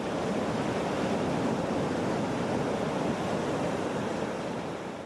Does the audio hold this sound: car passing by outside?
no